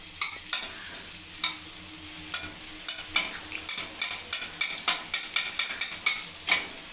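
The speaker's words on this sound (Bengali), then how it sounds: "এবার বাটারটাকে ভালোভাবে গলিয়ে নেব।" Butter melts in a hot wok while a spoon stirs it, giving a soft steady sizzle broken by regular scraping clicks of metal against the pan, close and without talk.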